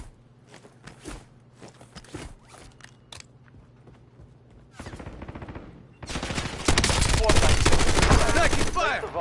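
Gunfire in a first-person shooter video game: scattered single shots and short bursts at first, then dense, loud sustained automatic fire that swells toward the end, with footsteps and gear sounds mixed in.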